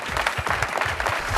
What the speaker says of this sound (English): possibly the President's commitment was due a round of applause